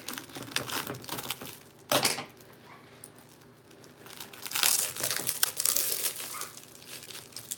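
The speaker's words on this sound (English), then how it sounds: "So I'm going to go ahead and cut the plastic." Plastic packaging around a jewelry jar is cut open with crinkling and tearing sounds in bursts, quieter in the middle and rising again toward the end.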